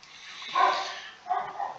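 Dogs barking somewhere outside, two muffled, fairly distant bursts heard alone with no one talking over them.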